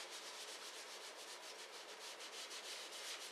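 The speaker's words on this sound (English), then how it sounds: "you get your baby wipe and you just scrub the paint in" A baby wipe scrubs acrylic paint into a paper journal page, giving a soft, steady rubbing hiss with quick repeated strokes, fairly quiet and close, with no talking.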